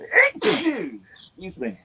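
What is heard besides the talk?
person sneezing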